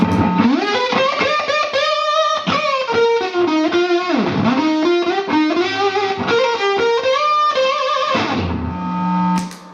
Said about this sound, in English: my signal chain starts with the germanium muff